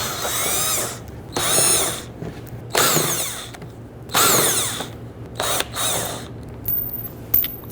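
A power tool backs out 7mm screws along the bottom lip of a Dodge Charger's front bumper in a series of loud, close whirring bursts about a second long, separated by short pauses, with no speech.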